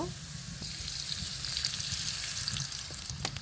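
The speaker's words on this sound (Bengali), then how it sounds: "তেল দিয়ে পেঁয়াজটা ভেজে নেব" Onion frying in oil for a pangas fish and taro stem curry, a bright continuous sizzle close up with faint low background rumble and a few small clicks near the end.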